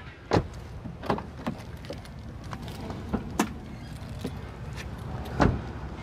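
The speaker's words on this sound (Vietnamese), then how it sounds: "Bây giờ em sẽ mở cốp" Trunk of a Toyota Camry 2.4G being opened: a series of sharp, close mechanical clicks and clunks from the latch and lid, spaced irregularly over a quiet background.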